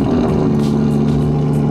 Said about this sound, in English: Try and get a little bit of a cold start for you now with the Quicksilver exhaust.